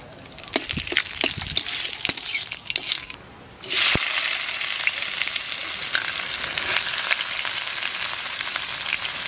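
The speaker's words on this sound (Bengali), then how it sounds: "তেলের মধ্যে দিয়ে দেবো জিরা তেজপাতা" Cumin seeds and bay leaves hitting hot oil for an egg curry with new potatoes: scattered crackles and clatter, then a sharp surge into a loud, continuous sizzle that holds steady to the end, no talking.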